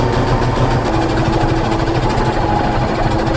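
A sewing machine runs a straight stitch along a line on fabric cut from a bedsheet for sweatpants, a loud, steady, fast mechanical whir close by without any speech.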